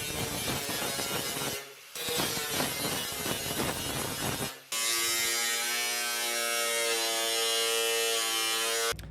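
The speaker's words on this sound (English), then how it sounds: "So we're just gonna keep fine tuning with the grinder, cutoff wheel, and try to get a perfectly butt up edge to weld it to." An angle grinder fitted with a cutoff wheel trims a steel cowl induction scoop on a 1982 Ford Bronco hood. It makes a loud, close, high-pitched whine that runs nearly nonstop through the clip, with one short pause and a shifting pitch as the wheel bites and frees.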